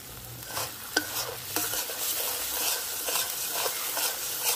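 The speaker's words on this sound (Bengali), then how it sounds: "অল্প লবণ, সব মশলা ভালোভাবে কষাই নেব।" Spices for a katla fish curry with cauliflower and potato sizzle in hot oil while being stirred, with steady frying hiss and a few sharp scrapes and clinks of the spoon against the pan, close and continuous.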